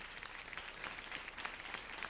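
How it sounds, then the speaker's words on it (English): A crowd cheers and applauds in a steady, dense wash of clapping with scattered bright peaks, heard from a distance and filling the whole moment without a break. "both of them going cheers and applause"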